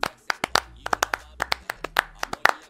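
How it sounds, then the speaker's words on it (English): Sparse clapping from a small group, sharp close claps in an uneven rhythm, about twenty distinct loud smacks over a few seconds, with a low hum underneath. "Aye, round of applause."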